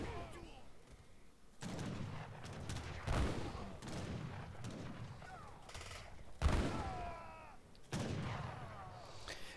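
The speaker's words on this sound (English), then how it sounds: "Oh, that was a really good volley." Volleys of massed musket fire crack out in Age of Empires III, several loud broadband bursts in sequence with booming cannon-like hits, fairly close, while a commentator talks over the battle.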